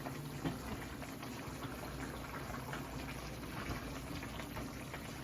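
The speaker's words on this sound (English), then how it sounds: "Our pot is bubbling, guys." Steady bubbling and popping of Jamaican oxtail simmering in a pot, a dense continuous wash of small bursts with no talking.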